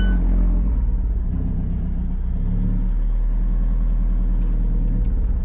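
An Alfa Romeo 4C sports car engine hums low and steady at close range during slow parallel parking, a constant rumble with slight shifts in revs.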